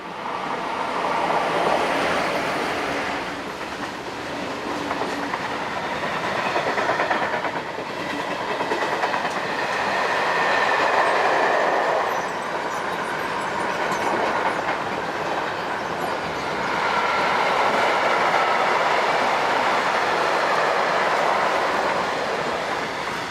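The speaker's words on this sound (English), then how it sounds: "Train 6104 from Chiasso to Zurich Limmatal is seen next with 11353 and" Train 6104 from Chiasso to Zurich Limmatal, hauled by locomotives 11353 and 11360, passes with a long, loud rolling rumble and clatter of wheels that swells and eases in waves over more than twenty seconds.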